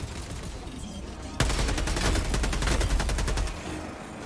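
Heavy gunfire in Helldivers 2 against bots: a sharp, powerful shot cracks out of a quieter stretch, then a rapid, loud burst of repeated shots rattles on for about two seconds before easing off.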